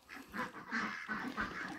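Ducks quacking near a farm barn in cold weather as the flock files inside, a run of repeated nasal calls close by with short pauses between them.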